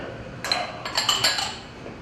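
Ceramic soup cups in two sizes, a smaller one and a slightly bigger one for a lid, clink and knock against dishes in a kitchen, giving a few close, bright clatters over about two seconds with no talking.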